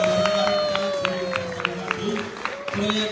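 A crowd at a film screening and cast-and-crew event for the horror film Ritual Berdarah claps and cheers in a dense, steady wash of applause, with a voice speaking over it.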